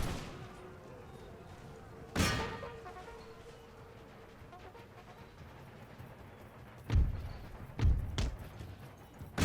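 Dragoon muskets fire in an American Revolution video game, with one sharp report early on and a quick cluster of three or four shots near the end, all set against quiet battlefield ambience.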